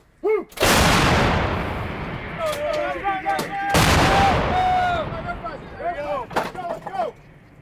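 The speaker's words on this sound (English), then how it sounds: "we're putting all 6 guns in action at once" A battery of six artillery guns fires together during a training exercise, two loud booming blasts a few seconds apart followed by ringing, echoing rumble and scattered shouts and voices in the background.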